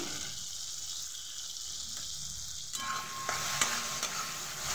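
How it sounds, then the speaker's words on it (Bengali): Chopped tomato and salt drop into hot oil for a fish curry with taro, giving a soft steady sizzle that brightens and thickens partway through, with faint stirring scrapes and no talking. "তেল ছেড়ে গেছে, এর মধ্যে দিয়ে দেবো টমেটো কুচি, দেবো লবণ"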